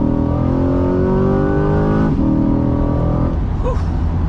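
A Chevrolet Corvette C8 accelerates hard from about 50 mph. The engine note climbs steadily and loudly, falls briefly on a gear change, then rises again with a raspy roar.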